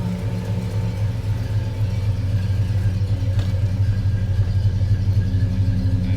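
A Jeep engine idles steadily nearby, a continuous low rumble with a smooth, even drone and no voices over it.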